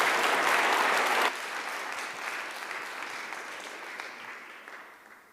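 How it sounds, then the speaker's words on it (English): Audience applause at an evening talk on war crimes and justice, a loud dense burst for the first second that drops abruptly to steadier, softer clapping fading out gradually. "One more applause, please."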